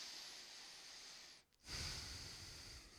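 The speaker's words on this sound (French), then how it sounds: "Ça, c'est la respiration normale." Calm, normal breathing demonstrated during a focus exercise for footballers, a steady breathy airflow with a brief pause before the next, fuller breath; close and soft.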